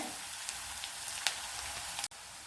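Onions sautéing in oil for an ivy gourd stir-fry, a soft steady sizzle with faint crackles and a brief clatter near the end.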